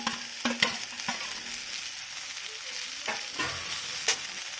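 Chopped okra going into a pan of sautéed onion, garlic and turmeric for masala bhindi, frying with a low continuous sizzle and a few sharp scrapes and clatters of stirring.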